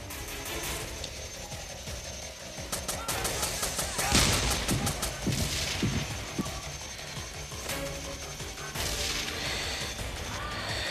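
Combat in the Splinter Cell Conviction mobile game, with dense mechanical clatter, gunfire bursts and a crash near the middle over a constant layer of game noise.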